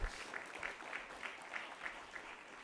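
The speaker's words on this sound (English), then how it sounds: "So I think you guys owe yourselves an applaud." A mayoral forum audience in Gary claps together in a fairly steady rhythm, a short burst of collective applause heard from a middle distance, lasting under three seconds.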